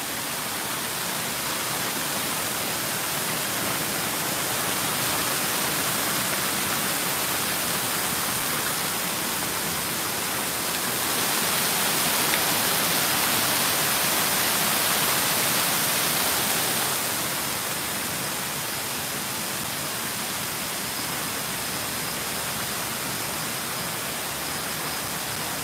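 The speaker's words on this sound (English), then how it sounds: "I thought it's waterfall, but it's actually a bit kind of rainy." Steady rain hisses outside near Hotel Gajoen in Tokyo, a dense, even wash of noise that swells briefly louder midway before settling back, with no voices.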